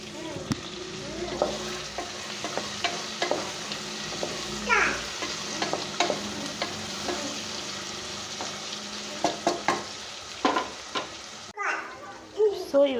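Mixed vegetables for veg pulao fry in a pan, a moderate steady sizzle with occasional stirring knocks, and a voice and household sounds faintly audible near the end.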